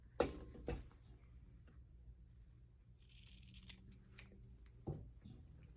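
Sharp scissors snip through the fabric corners of a sewn makeup bag, a few quiet close-up clicks and cuts spaced out across otherwise near-silent moments.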